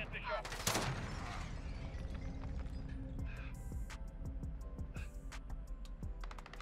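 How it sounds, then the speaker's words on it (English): Gunfire from the video game Call of Duty Modern Warfare plays faintly in the distance as scattered shots and short bursts, mixed with clicks and other game noises. "I'm taking fire."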